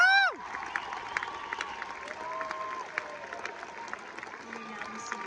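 Steady applause from a crowd at a graduation ceremony fills the room after a brief cheer at the start, with scattered shouts and whoops over the clapping.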